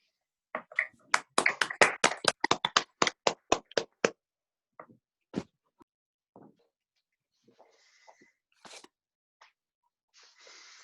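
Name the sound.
audience applause for a cadet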